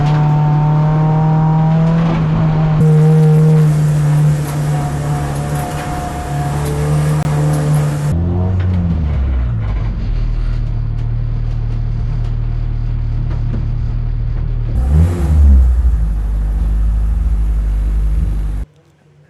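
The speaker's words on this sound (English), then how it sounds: "it's all calm and quiet until the VTEC kicks in" Three Honda EG Civic race cars at the Snetterton circuit, engines idling low and steady, then revving hard as VTEC kicks in at the race start, a loud rising roar with tire noise, close and sustained.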